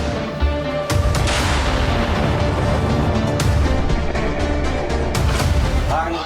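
An artillery gun of an artillery brigade fires, a loud close boom followed by a long rumbling, crackling echo that fills the clip.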